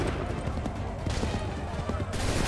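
Musket volleys in an Assassin's Creed 3 cutscene: dense, crackling bursts of gunfire layered over constant battle din, loud and sustained throughout with no clean pauses.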